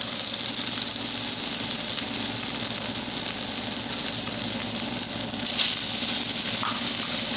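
A beef roast sizzles steadily as it browns in a hot pan, a dense continuous frying hiss with faint crackles, close and alone without speech.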